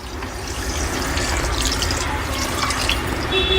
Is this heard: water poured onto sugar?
yes